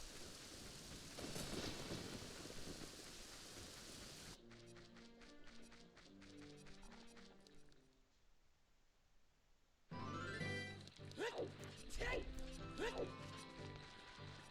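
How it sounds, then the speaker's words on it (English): Rain and thunder in Zelda: Ocarina of Time, a steady hiss of rainfall with rumbling thunder, giving way to music, then returning with crashing storm noise; a voice talks over parts of it. "rain starts, looks a bit cloudy, thunder and lightning start"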